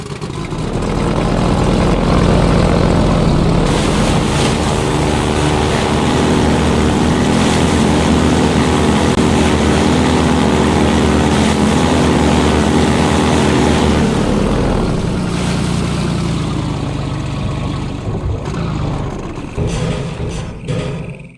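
A helicopter's bombing run attack in Half-Life 2, a loud, sustained rotor and engine roar with dense clattering bursts that holds steady for about fifteen seconds, then fades unevenly.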